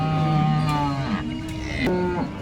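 A Jersey cow moos loudly and close at the Sangola cattle market, a long low call followed by a shorter second moo, with no talking.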